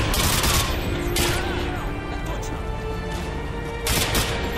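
Continuous gunfire and bursts from a Modern Warfare Spec Ops video game firefight, dense and loud throughout with sharper blasts near the start and end, a voice faintly mixed in.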